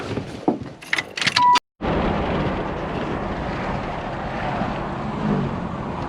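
A 1996 Impala SS engine starts: keys jangle, there is a brief silence, then the engine catches into a steady, fairly loud idle that carries on to the end.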